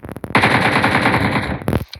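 An AKM rifle in a video game lets off a rapid automatic burst lasting well over a second, loud and close, framed by a few single shots before and after.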